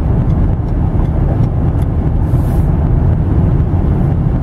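A 2015 Ford F-150 Platinum pickup cruising on the road, a steady, loud low rumble of engine and road noise with some wind buffeting throughout, no talking.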